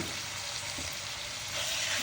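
Marinated chicken sizzles loudly and steadily in a pan as it cooks for chicken pasta, a dense, continuous frying hiss that swells slightly near the end, with no talking.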